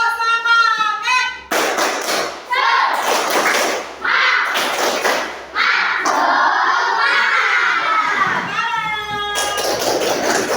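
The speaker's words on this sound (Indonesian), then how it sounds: "Tepuk semangat." Children in a class chant and clap in rhythm together, loud, energetic group voices with sharp claps and thuds in a school classroom.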